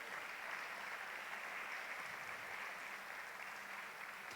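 Steady, dense applause from a church congregation, a continuous wash of many hands clapping at even loudness throughout, with no voices over it.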